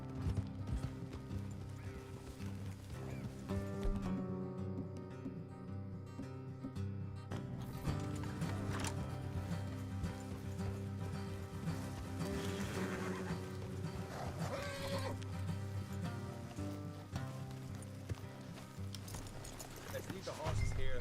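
Horses clip-clopping along a road in the Red Dead Redemption 2 video game, steady hoofbeats under a game soundtrack and speech from characters talking throughout.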